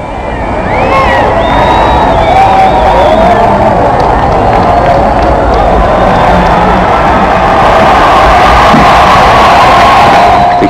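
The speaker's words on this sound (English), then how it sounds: "The huge, cheerful crowd that has waited so long and patiently roars and waves its welcome." A huge, cheerful crowd roars continuously in welcome at a royal occasion, a dense, loud wash of cheering and voices that holds steady throughout with wind-like rushing noise.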